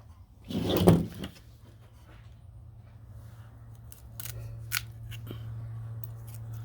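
A single crisp snip of shears cutting a comfrey crown cutting from the plant, close and sharp near the start, followed by faint rustling and a low steady hum.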